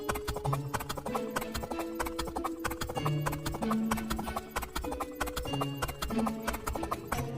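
Horse hooves clip-clop in a steady rhythmic gait, close and continuous, mixed with music-like tonal sounds and no talk.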